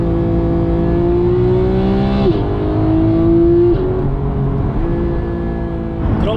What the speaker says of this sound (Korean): 자연흡기 차가 사운드는 배기가스가 고스란히 다 밖으로 배출되기 때문에 일반 GT 차들이 훨씬 더 크고 더 웅장하게 느껴질 수밖에 없어요